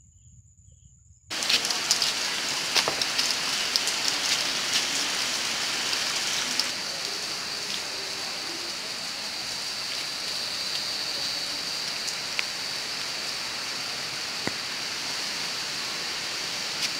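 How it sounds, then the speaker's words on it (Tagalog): Heavy rain starts abruptly after near silence and continues as a steady, loud, dense hiss with occasional sharper drips, at an outdoor spot being set up for school intramurals. "Pero umuulan ngayon. Grabe. Umulan."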